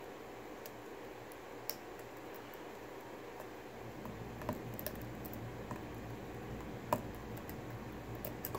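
Faint clicks from pins setting while picking a Corbin Russwin LFIC lock under heavy tension, a few small isolated ticks scattered over a quiet hiss.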